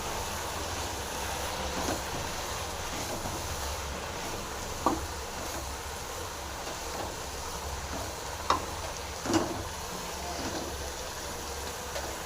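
Kuppaimeni herb frying with masala in a pan gives a steady, soft sizzle throughout, broken by a few sharper clicks from stirring.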